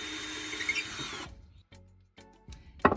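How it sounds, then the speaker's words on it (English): A power drill whirs for about a second, boring a hole in pallet wood, before stopping, followed by a few quiet knocks and clatters as things are handled close by. "I'm going to go ahead and drill one hole in the middle"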